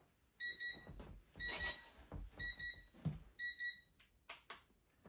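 A digital kitchen-style timer beeps in repeated bursts of rapid high electronic chirps, four clusters spaced about a second apart, fairly close, with soft rustling and handling noises between them.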